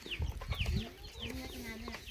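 Chickens on a family farm cluck in short repeated calls, with a few higher chirping notes mixed in, close by and moderately loud over light background noise.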